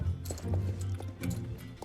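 Horse hooves clip-clop at a steady trot in the online horse-riding game Star Stable Online, a close, continuous rhythmic patter with a low hum underneath and no talking.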